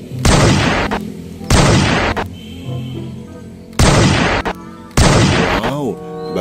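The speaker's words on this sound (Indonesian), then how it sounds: "Ini adalah mainan pistol-pistolan teman-teman ya." A toy pistol fires four long, loud electronic gunfire bursts, each about a second, separated by pauses with electronic tones and warbling effects in between.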